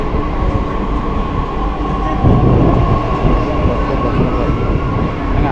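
A Delhi Metro train rushes past up close, a steady loud rumble of wheels and carriages that swells partway through and holds without pause.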